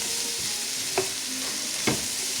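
Onions and vegetables sizzle steadily in pork chop drippings in a pan, with two sharp scrapes of a spoon stirring them, close and clear with no talk.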